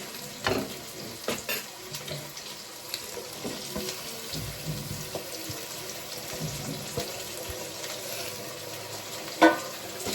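Bell peppers fry in a pan with a steady soft hissing sizzle and occasional light clicks and knocks, fairly quiet, with no talking.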